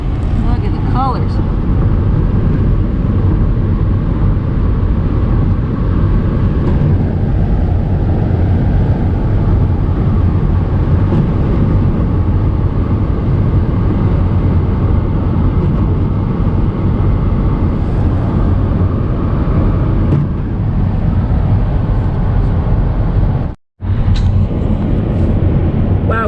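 A car driving along a road after leaving thick fog, a steady loud rumble of engine and tyre noise filling the whole stretch, with one abrupt momentary dropout near the end.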